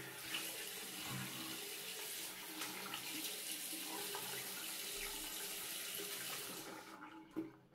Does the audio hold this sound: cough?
no